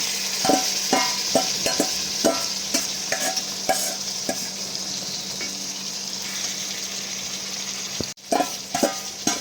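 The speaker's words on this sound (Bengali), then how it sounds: "এরপর হালকা নাড়াচাড়া করে এখানে ম্যারিনেশনের মাটনগুলো আমি অ্যাড করে দেবো" A spoon stirs masala frying in a pan before marinated mutton goes in, with repeated close scrapes and knocks over a steady sizzle, one sharp break near the end and no talking.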